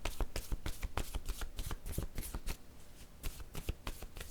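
Tarot cards being shuffled by hand, a close run of rapid riffling flutters and soft slaps in irregular bursts, with a brief lull midway before the shuffling resumes; no voices.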